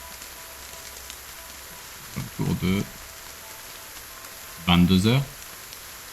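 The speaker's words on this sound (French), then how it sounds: "La pluie commence à tomber lorsque tu atteins la grille en fer forgé du musée." Steady rain falls as a continuous hiss setting the ambience of a tabletop role-playing scene outside a museum at night, with someone speaking French briefly over it twice.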